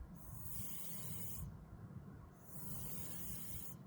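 Refrigerant escaping from a loosened mini split line fitting during a pressure test, two close, sharp bursts of hissing separated by a short pause, each cutting off cleanly, with no talk.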